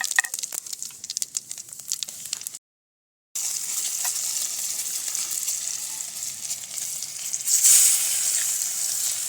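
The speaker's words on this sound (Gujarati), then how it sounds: "તેલ આપણે ગરમ થઈ ગયું છે તો તેમાં રાઈને સૂકું મરચું ઉમેરી દઈશું" Mustard seeds, cumin and dried chili crackle and sizzle in hot oil, at first with sharp popping, then a steady bright hiss after a brief silent gap, swelling louder near the end.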